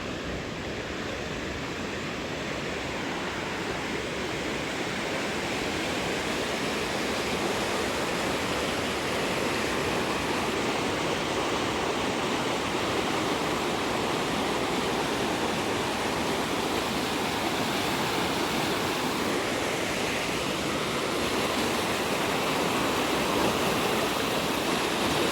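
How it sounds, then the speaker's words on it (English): Rushing river rapids in Petoskey, Michigan roar loudly and steadily throughout, a dense broadband wash of churning water with no break. "I love the sound of the rushing water"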